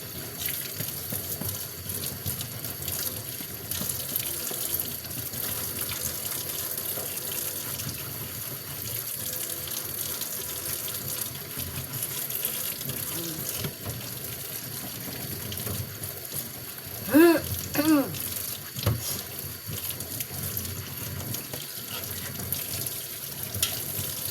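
Tap water runs steadily from a faucet into a sink, a continuous broadband hiss with a brief clatter of dishes partway through, no speech.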